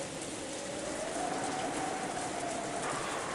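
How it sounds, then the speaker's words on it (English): Steady rain falling in earnest in the video game Umineko, a dense even patter on surfaces with a faint tonal hum underneath and no voices. "Just like the previous night, the rain was falling in earnest."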